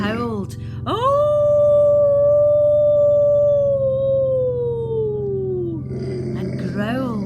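A wolf's howl voiced by a storyteller in a fairy tale, one long sustained, loud, close cry that rises sharply, holds and slowly falls over several seconds, with a brief whimpering tail afterward; a human voice imitates the wolf.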